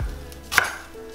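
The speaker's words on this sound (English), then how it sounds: "Okay, so I'm going to chop up a little bit of coriander." A knife chops fresh parsley on a cutting board for a slow cooker chicken soup, one crisp close chop standing out over quiet kitchen background.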